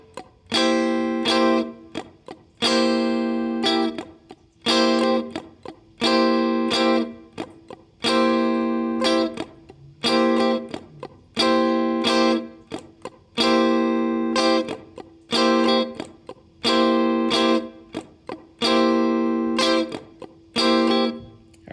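A funk rhythm guitar plays a repeating pattern of muted scratches and bright chord hits, some cut short and others floating and sustained. It is loud and close, in regular phrases with brief gaps between them.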